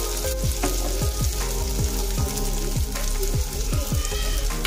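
Chillies frying in hot oil in a pan for a potato bhaji, a dense continuous sizzle up close with repeated scraping stirs of a spoon at a steady rhythm, no voices.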